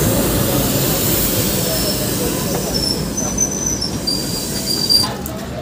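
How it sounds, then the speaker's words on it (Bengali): A passenger train pulls out of Kishanganj station in Bihar, its steady, loud rumble and rattle of wheels on rail filling the scene with faint high squeals above, heard from on board without any talk. "ঠিক 2 মিনিট পরে আমাদের ট্রেন কিষানগঞ্জ থেকে ছেড়ে দিয়েছে তার নেক্সট ডেস্টিনেশনের জন্য"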